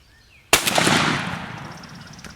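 A single sharp shotgun blast fires during a turkey hunt outdoors, loud and sudden after quiet birdsong, its boom echoing and slowly fading across the open ground.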